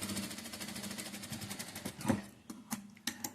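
A sewing machine double-stitches the front part of a blouse with a steady, fast mechanical chatter that stops near the end, leaving a few soft clicks and handling noises, close and moderately quiet.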